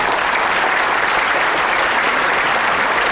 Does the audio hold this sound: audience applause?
yes